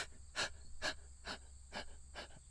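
A voice imitates asthmatic over-breathing with five quick, rhythmic wheezy breaths, evenly paced and fairly faint, heard alone without talk.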